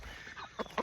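Chickens on a farm, scratching in dirt near where horses eat, giving a few short clucks that rise in two quick bursts over a quiet outdoor background.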